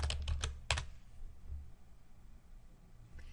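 An invoice number is typed on a computer keyboard for an accounting bill entry: a quick cluster of sharp, close key clicks, then a quiet pause with one last faint tap.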